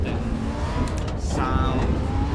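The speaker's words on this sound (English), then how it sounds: "it's a 2-liter 4-cylinder, yeah, but, well, it's one of the best 4-cylinders ever put in a road car" An Alfa 2-liter four-cylinder engine revs in Assetto Corsa EVO, its tone rising and falling with a gear-shift dip midway, loud and close, with someone talking over it.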